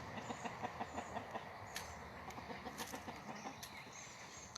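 Free-range chickens and a rooster cluck in short, repeated bursts, a flock nearby, with scattered sharper calls over a steady outdoor background.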